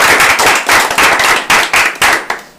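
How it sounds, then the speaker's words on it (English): A small group claps in a loose, uneven burst of applause lasting a couple of seconds, close and fairly loud, with several short swells before it tapers off. "You guys should give yourself a round of applause."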